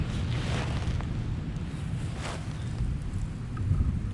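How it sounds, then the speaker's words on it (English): Wind buffets the microphone with a continuous low roar, gusting steadily throughout at close range. "Man, it is windy."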